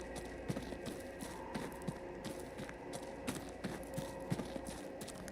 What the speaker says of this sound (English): I can hear horses in the distance.